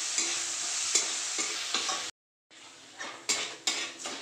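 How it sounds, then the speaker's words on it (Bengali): Mung dal fries in a pan with a soft continuous sizzle, broken by repeated scraping strokes of a stirring spoon, close up; a brief silence interrupts midway. "মুগ ডালটা ভাজা হয়ে গেছে"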